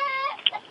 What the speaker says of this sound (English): my chicken is escaping, and I need your help